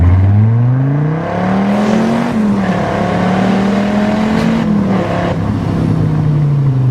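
A supercharged Dodge Viper GTS pulls hard in first gear, its engine note rising steadily, briefly dipping and climbing again as it revs loud and close, with a whirring supercharger whine layered over the deep exhaust.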